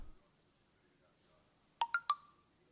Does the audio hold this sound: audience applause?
no